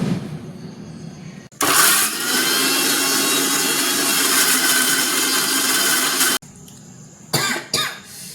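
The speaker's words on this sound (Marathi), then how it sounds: "इकडं हे दोडका, मिरची, अद्रक आणि लसूण एकत्र बारीक करून घेणार आहोत." A mixer grinder blends ridge gourd, green chili, ginger and garlic together, a loud steady whir of about four and a half seconds after a brief start, then cuts off, followed by a few short bursts.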